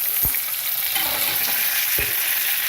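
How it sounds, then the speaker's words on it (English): Steady broadband sizzling of eggs frying in a pan with a little water, with a few soft low thumps and clinks, no voices. "You put a little bit of water in with the eggs where they're frying."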